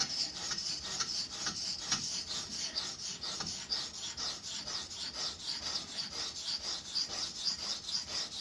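A knife blade is rubbed rhythmically across a silicon carbide stone oiled with canola oil and kerosene, a steady close rasping of repeated strokes with no talk.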